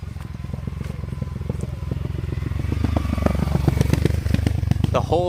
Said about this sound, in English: The whole family is on the motorbike driving through these dirt hills.